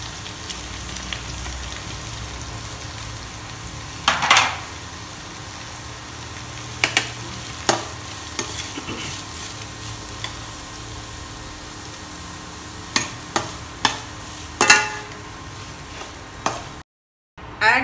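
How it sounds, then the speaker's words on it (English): Onions, green chillies, ginger, curry leaves and mixed vegetables sauté in a pan for upma, giving a steady low sizzle broken by sharp scrapes and clinks of stirring, with no talk. "continue to saute till the onions are done"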